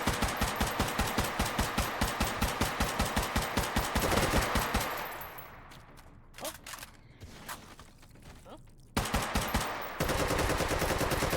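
Rapid, evenly spaced shots from an oversized semi-auto pistol in a video game, loud and close. The volley breaks off for a few seconds of quieter mechanical clicks before the fire resumes.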